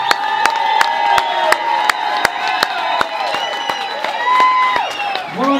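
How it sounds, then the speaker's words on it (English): A crowd at a Christmas farewell rock and roll performance in Frederick, Maryland claps steadily with loud, sharp hand claps throughout, mixed with scattered cheers and a whistle near the end. "round Christmas applause."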